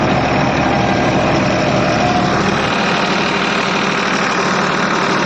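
Massey Ferguson tractor running a rotavator through sugarcane leaf trash in a field, a loud, steady diesel engine drone with broadband churning noise, close and continuous throughout.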